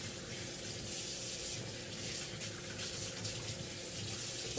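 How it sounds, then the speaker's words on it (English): Tap water running steadily into a sink while hands are washed during cooking, a continuous close splashing stream lasting the whole few seconds, with no talk. "I'm just gonna wash my hands off."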